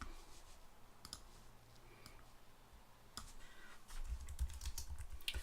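Someone types on a computer keyboard in scattered bursts of faint clicks and taps, some strokes sharper than others, with a low rumble of background noise rising near the end.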